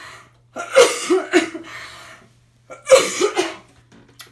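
Two separate bouts of harsh, close-up whooping-cough coughing, each a quick cluster of hacking coughs, with a short quiet pause between them.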